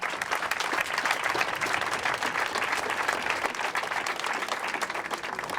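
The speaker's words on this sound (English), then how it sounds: "Big applause for them." Audience applause at a mayor's press conference celebrating a completed Main Street project in Burlington, steady dense clapping from a sizable crowd, loud and continuous throughout with no talk over it.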